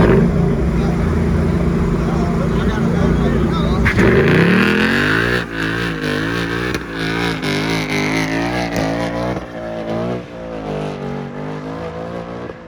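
A Mustang does a brake-stand burnout at a car meet, its engine roaring loud and close, then revving repeatedly with rising and falling pitch while crowd noise murmurs around it.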